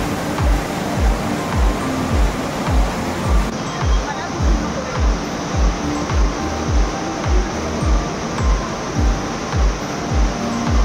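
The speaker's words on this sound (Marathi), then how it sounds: "हा आंबोली घाटातला मेन धबधबा आहे" Amboli Ghat's main waterfall roars steadily and fills the scene, with a regular series of low thumps, like footsteps on stone stairs, repeating throughout.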